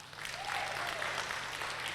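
A church congregation at a sermon claps loudly, a dense, even wash of many hands sustained for a couple of seconds without speech.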